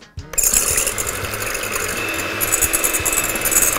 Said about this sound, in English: So you know when you can stop whisking, when your meringue has got to a nice stiff peaks.